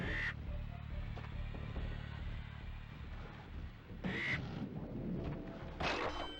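Quacking, squawking birds in the Cloud 9 level of Crash Bandicoot, with loud cries at the start, near the four-second mark and again near the end, over steady game music.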